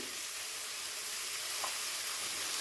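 Tomatoes frying in a pan for a Bengali kanta chorchori, a continuous close hissing sizzle that holds evenly from start to finish.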